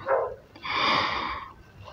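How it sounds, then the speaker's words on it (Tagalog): A dog on a shoreline where shells are gathered gives two or three close barks, the middle one long and strained, with no one speaking over it. "ang ingay ng aso"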